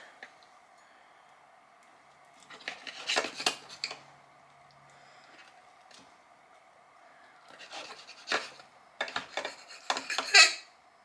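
Sharp knife cutting into a cooked Italian stuffed pepper on a plate, with scraping and rasping strokes and light clinks of metal on dish in a few separate bursts against a faint steady hum, no talk.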